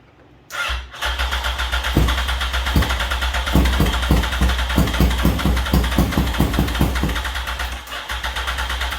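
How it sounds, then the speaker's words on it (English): A 2005 Yamaha R1 motorcycle engine cranks repeatedly with a rhythmic chugging as the starter whirs, trying to fire but not quite running. "All right, so it's trying to fire."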